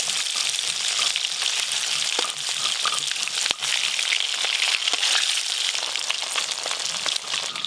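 Large chela river fish frying in hot oil with mustard, a loud, steady sizzle with crackling pops running throughout, no voices.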